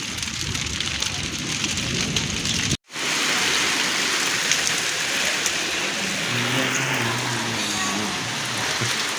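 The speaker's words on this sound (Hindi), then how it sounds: "बारिश तेज है, बारिश बहुत तेज़ है।" Heavy rain pours steadily outdoors in a windstorm, a dense continuous hiss of drops on surfaces with a brief cut partway through and a low vehicle-like hum underneath.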